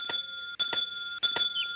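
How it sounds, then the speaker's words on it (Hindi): A cartoon doorbell rings three times in quick succession, each a bright, sustained electronic bell tone with a sharp clanging onset, evenly spaced about half a second apart and loud. "कौन घंटी बजा रहा है?"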